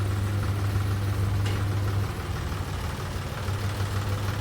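A tractor engine idles nearby with a steady, low, rumbling drone that holds level throughout, and no voices are heard.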